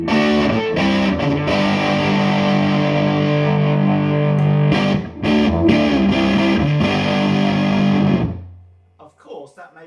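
A Bad Cat Cub IV 15R tube guitar amp plays with its bass depth control switched on, a loud, thick, distorted electric guitar riff with sustained chords that rings out and fades at the end.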